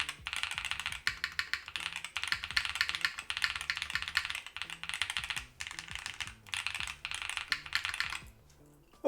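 Fast, steady typing on a mechanical keyboard fitted with Hall effect switches. The clicks and clacks come close and continuous, with a touch of bass thump under a crisp top end, easing off near the end.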